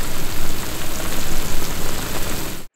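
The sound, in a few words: eggplant braising, liquid boiling down without a lid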